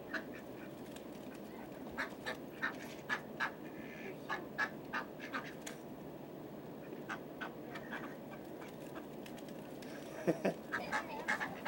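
Ducks quacking in a parking lot, a steady series of short quacks scattered throughout over outdoor background noise, some louder bursts near the end, moderately close.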